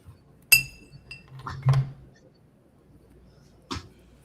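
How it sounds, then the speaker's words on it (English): Ice cubes clink against a glass in a few sparse, distinct taps, close by in a quiet room, with longer gaps of near silence between them. "I heard ice cubes. I can hear those."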